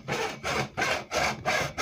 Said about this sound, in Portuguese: Então vou serrar aqui, ó, mais ou menos nessa marcação